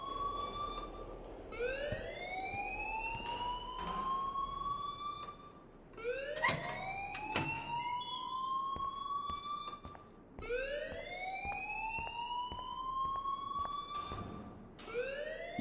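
An alarm in Life is Strange wails like a siren, sweeping upward in three long repeating cycles that stay loud and steady throughout.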